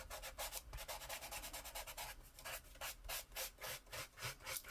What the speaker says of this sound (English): going around with my sanding block so that it will accept ink